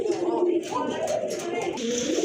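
A pair of large red-marked pigeons coo in low, rolling, overlapping murmurs, close and continuous.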